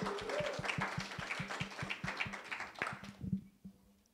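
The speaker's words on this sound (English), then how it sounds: "give yourself a round of applause for that" A small audience claps at a morning talk about improv, with a handful of distinct, fairly close hand claps in a loose rhythm that thin out and stop near the end.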